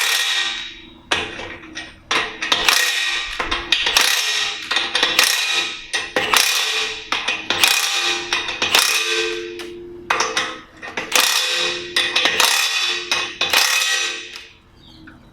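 Impact wrench tightening wheel bolts on a hub, delivering repeated loud bursts of rapid hammering rattles, about a dozen short runs separated by brief pauses.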